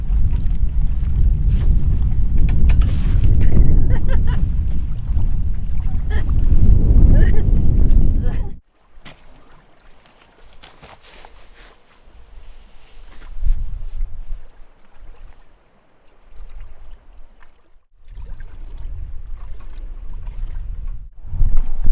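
Strong gusting wind buffets a camping awning and microphone, heavy and roaring for about eight seconds, then dropping to softer intermittent gusts with rustling and flapping, and swelling again near the end.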